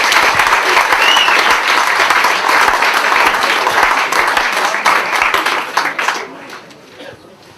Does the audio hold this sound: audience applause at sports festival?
yes